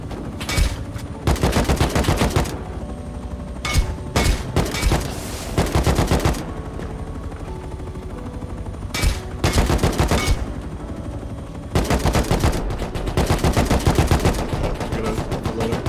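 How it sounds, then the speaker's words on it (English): Repeated bursts of AK rifle fire from the video game Rust, loud and close, firing in rapid automatic volleys separated by short pauses over a steady low background. "Shoot at them with your AK, bro!"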